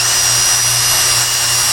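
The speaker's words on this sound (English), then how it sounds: "it's a scuff pad on a Velcro thing with a drill, and I just took it like this." A drill spinning a Velcro-backed scuff pad, lightly buffing oxidation off the body of a Yamaha TerraPro PTO mower, makes a steady, loud, continuous whirring and rubbing hum that holds even throughout without a break.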